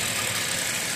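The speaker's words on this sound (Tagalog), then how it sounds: "Start na yung makina mga idol." Engine of an MZ RX5 motorcycle running at a steady, loud, rough idle, close by and with no other sounds.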